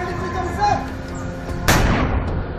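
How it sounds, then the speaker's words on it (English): A single loud gunshot cracks out as the signal for Indian Army commandos to jump into water during confidence training, ringing sharply over a steady background din and murmur of voices. "at the sound of a gunshot"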